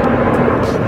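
Military aircraft flying around the Statue of Liberty over New York Harbor, a loud continuous engine roar filling the brief moment with no talk.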